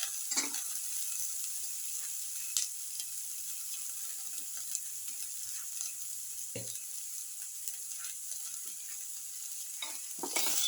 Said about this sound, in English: Put in the garlic piece